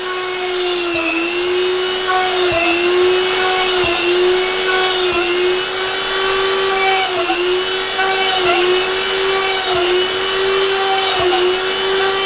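A small Dremel rotary tool whines loudly and steadily at high speed, its pitch dipping briefly now and then as it drills into leather.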